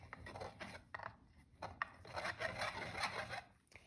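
Paint pigment is ground with a grinder to blend colors, producing dry, gritty rasping and rubbing strokes that come in short scrapes and then a steadier grinding stretch, fairly quiet and close.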